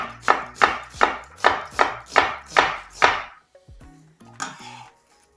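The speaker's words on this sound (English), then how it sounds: "Green onions, just chop them into small pieces." Green onions chopped with a knife on a cutting board: eight evenly spaced, crisp chops in a steady rhythm, then a short pause and one last softer cut, close and clear with no talking.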